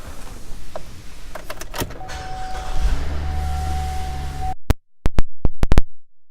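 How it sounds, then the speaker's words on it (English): The power moonroof of a 2016 GMC Acadia runs with a steady electric motor hum for a couple of seconds, followed by a few sharp clicks and knocks after the motor stops. "power moonroof."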